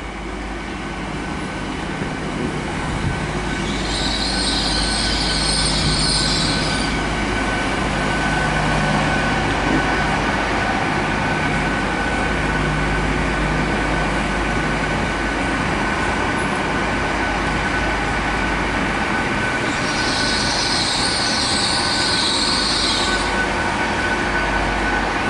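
Train 800-203 passing through Lincoln as a steady, loud rumble that lasts the whole time, with a constant tonal hum and two bursts of high squeal or whistle-like hiss.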